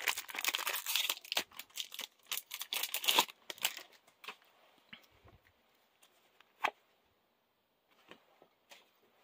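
Pokemon Brilliant Stars card pack torn open by hand without scissors: loud, close crinkling and ripping of the foil wrapper for a few seconds, followed by fainter, scattered rustles and taps.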